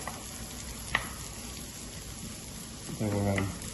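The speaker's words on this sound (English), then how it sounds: "It's good to get the garlic, brown it all up. Add our chilies in" Garlic and chilies fry in a wok for salt and pepper chips with a continuous, moderately loud sizzle. A single tap comes early, and a short burst of voice rises over the frying near the end.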